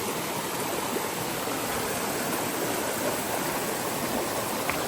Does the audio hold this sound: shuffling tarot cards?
no